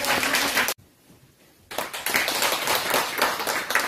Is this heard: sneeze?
no